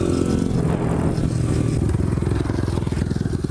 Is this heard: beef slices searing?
no